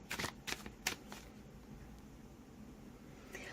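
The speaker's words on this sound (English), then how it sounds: "So let's just shuffle and find out." Tarot cards from an Eight Coins Tattoo deck shuffled in three quick riffling bursts near the start, then a faint papery hiss and one more soft riffle at the end, close up with no talking.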